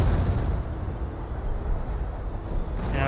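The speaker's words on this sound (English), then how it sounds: "Great barrage right there." Dense, rumbling artillery barrage in the World War II strategy game Company of Heroes, with continuous heavy low booms that roll together into a loud, sustained roar.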